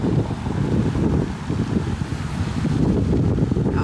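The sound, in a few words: wind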